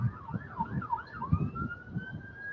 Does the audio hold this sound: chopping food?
no